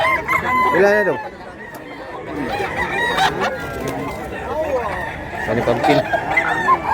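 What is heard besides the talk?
rooster crowing and clucking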